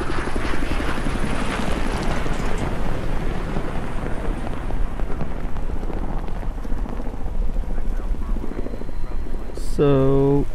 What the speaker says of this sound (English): an Osprey is landing.